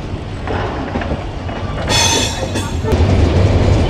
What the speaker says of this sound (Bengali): আমাদের ট্রেন দুর্বার গতিতে মধুমতি এক্সপ্রেস রাজশাহীর উদ্দেশ্যে ছুটে চলছে